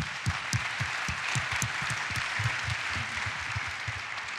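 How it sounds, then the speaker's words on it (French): An audience at an awards evening applauds steadily, many hands clapping in a dense, even patter at moderate level for the whole stretch, with no voices over it. "Je pense qu'on peut les applaudir à nouveau."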